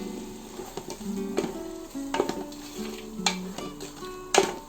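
Country chicken stir-frying with salt in a pan: a steady sizzle under scattered scrapes and clinks of a spoon against the pan, close and moderately loud, with no talk.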